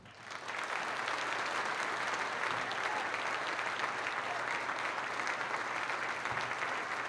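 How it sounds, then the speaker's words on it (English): A crowd claps and cheers in sustained, dense applause that starts quickly and holds steady at full volume throughout. "you got to give that man a round of applause"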